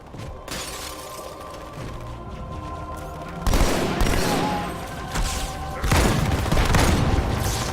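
Heavy gunfire and explosions from the video game Halo 2, a sustained rattle of shots broken by loud booming blasts with crashing debris, dense and close throughout.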